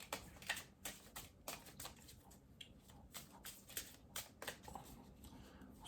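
A Spirit and Shadow card deck being shuffled by hand, a series of quick, soft riffling bursts repeating in an irregular rhythm, close and fairly quiet with no talking.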